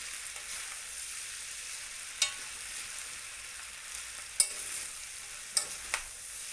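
Noodles frying quietly in a pan while a spoon stirs them, a soft low sizzle broken by a few sharp metallic clinks of the spoon against the pan.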